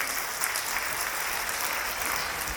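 An audience at a Hindi poetry recital (kavi sammelan) in Delhi claps in a dense, sustained burst of applause that stays even and fills the whole moment, with no speech over it.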